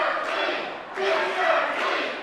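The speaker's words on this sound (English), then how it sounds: "Are they calling him Mr. Clean, or am I just hearing things" Wrestling crowd at an APWF independent show chanting in unison, a dense roar of many voices swelling in two loud waves with a brief dip between, filling the hall without any single voice standing out.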